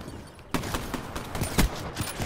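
Rapid bursts of gunfire from the haymaker weapon in a video game crackle in quick succession, with one sharper, louder shot standing out midway.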